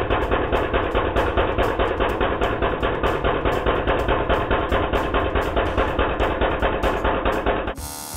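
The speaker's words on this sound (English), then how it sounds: "it was now time to use the jackhammer to actually set the anchor" A 90-pound jackhammer drives an anchor into the ground with a loud, steady stream of rapid pounding blows for nearly eight seconds, then the hammering cuts off abruptly.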